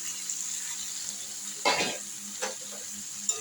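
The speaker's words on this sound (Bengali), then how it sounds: "মশলাটা আমার কষানো শেষ। এবার এই যে চিচিঙ্গাগুলো আমি দিয়ে দিলাম।" Snake gourd pieces dropped into a pan of frying spice paste give a soft sizzle with a couple of brief stirring scrapes, fairly close and modest in volume over a steady hiss.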